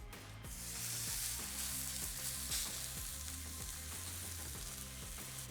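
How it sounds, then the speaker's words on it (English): Beef tenderloin searing in a hot oiled pan at about 390 to 400 degrees, giving a steady, dense sizzle and frying hiss that starts abruptly and holds throughout, close and alone. "so I'm going to put the tenderloin in right there."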